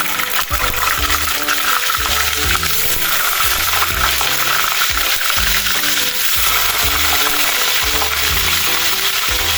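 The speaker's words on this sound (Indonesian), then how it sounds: "Kita goreng kentangnya sambil sesekali kita aduk ya" Steady, loud crackling and bubbling of potatoes deep frying in hot oil, with occasional stirring clatter, continuous throughout.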